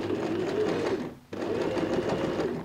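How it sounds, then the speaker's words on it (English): A sewing machine stitching a half-inch seam on fabric for a lined bag, a steady close mechanical whir with a brief stop in the middle before it runs on. "and then just match the edges and go and sew a 1/2 inch stitch"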